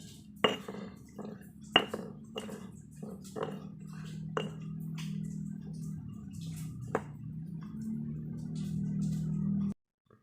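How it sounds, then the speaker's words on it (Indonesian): Stone mortar and pestle grinding West Java sambal dadak, with scattered sharp knocks and scrapes over a steady low grinding rumble that builds toward the end, close and moderately loud. "Setelah itu kita ulek lagi."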